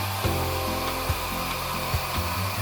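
A hair dryer fitted with a diffuser runs steadily while drying curly hair, a continuous close whir with a few brief bumps and handling rubs.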